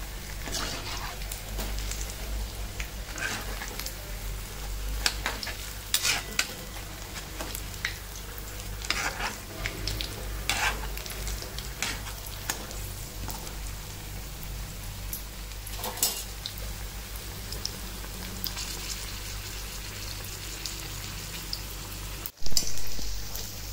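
Spice-stuffed green chilli fritters (mirchi vada) deep-fry in a pan of oil, producing a constant bubbling sizzle with irregular sharp crackles and spatula taps as they are turned, and faint talking in the background.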